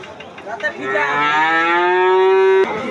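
A cow calf at a busy cattle market before Eid al-Adha gives one long, loud, close moo that rises and holds for nearly two seconds, with crowd noise faint beforehand.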